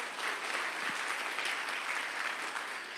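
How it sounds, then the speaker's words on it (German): Soft, steady applause from a church congregation during a special worship service, heard from a distance and evenly sustained with no voices over it. "Een applaus."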